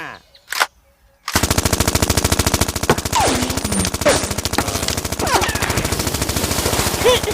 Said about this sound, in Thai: กระสุนเบิด